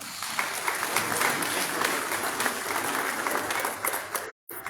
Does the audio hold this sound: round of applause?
yes